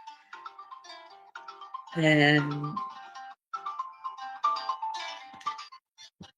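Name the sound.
phone ringtone ringing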